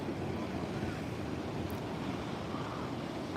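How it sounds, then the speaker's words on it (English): Steady ocean surf rolling onto the coast at low swell, a broad continuous wash with wind rumble across the microphone, no voices. "But you get some good waves out here as well."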